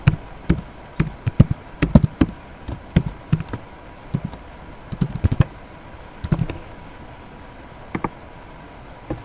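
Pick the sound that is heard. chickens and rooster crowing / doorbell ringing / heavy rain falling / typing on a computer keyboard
typing on a computer keyboard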